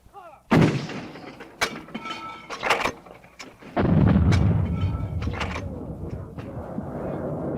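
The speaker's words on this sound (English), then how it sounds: "But when artillery arrives, when it drops down Charlie's throat, it's the most beautiful, ugly sound in the world." Artillery fire in the Vietnam War, heard as a sharp, heavy blast followed by scattered cracks and thumps, then a long rumbling roar that lingers to the end.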